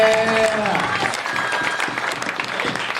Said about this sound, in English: a big Contropolis, New Jersey round of applause